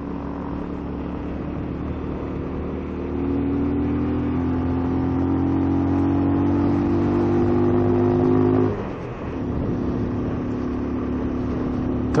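A car engine labours steadily on the mountain road to Babusar Pass, droning under load with little power, then briefly dips near the end as the gear changes before the strain resumes.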